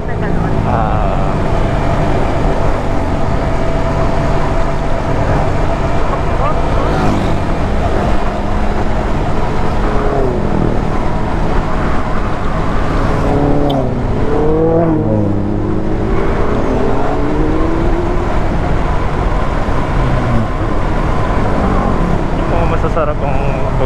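Motor vehicles, likely motorcycles, pass along the Marilaque mountain road, giving a continuous engine drone with rising and falling revs as they go by, and voices talk over the traffic noise throughout.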